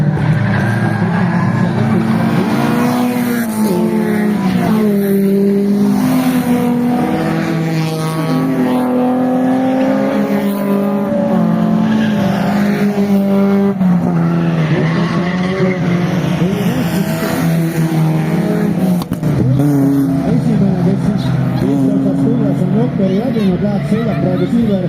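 A rally car in a superfinal race accelerates hard, its engine climbing and wavering as it slides sideways with tire noise, loud and continuous under an excited commentator's voice throughout.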